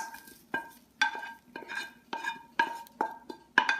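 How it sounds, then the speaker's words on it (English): Onions being stirred into a pot while making baked beans, heard as a run of eight sharp, evenly spaced scrapes and knocks of a utensil against the pot, close and moderately loud with no talking. "Stir these in."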